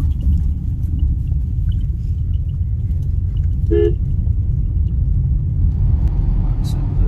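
A Tata car drives over a rough, broken stretch of road, a steady low rumble of engine and tyres heard from inside, with a brief horn toot midway.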